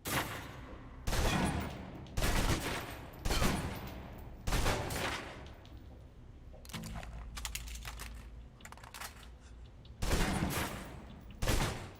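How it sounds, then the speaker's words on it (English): Bursts of submachine gun fire from a video game, several rapid magazine-emptying volleys separated by short pauses, loud and close with no talking. "Now let's empty the clip. Let you get a feel for the recoil."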